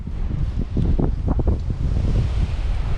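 Wind gusts outdoors at a site being leveled for a travel trailer, buffeting the microphone in loud, rumbling waves for the full three seconds, with no talking.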